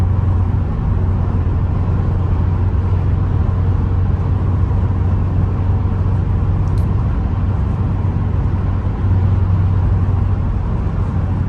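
2013 Ford Focus ST3 with a Motordyne exhaust driving, a steady low engine hum and road rumble heard from inside the cabin, even and moderate throughout.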